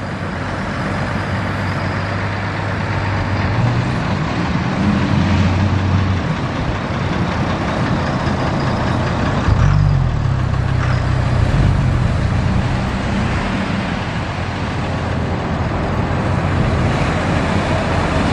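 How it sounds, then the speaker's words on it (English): A two-stroke outboard motor on a boat runs with its trim raised through shallow water, a loud steady engine drone with surging rises and wind-like rushing throughout. "Motor's trim high because it's shallow."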